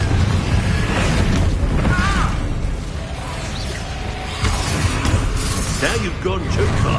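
Fiery Confringo spell blasts in Hogwarts Legacy, a dense roaring burst of booms and whooshes filling the whole clip, loud and continuous with shouted voices over it.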